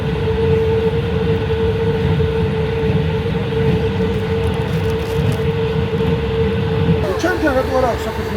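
A train rolls from Tashkent to Samarkand in Uzbekistan, heard from inside a carriage. It is a loud, steady rumble with a constant droning tone, faint muffled voices and a brief squeal of metal near the end.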